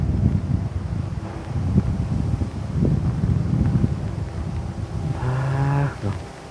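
Ordinary wind outdoors in rural northern Thailand rushes and buffets the microphone continuously, with low gusty rumble throughout and a brief tonal hum near the end.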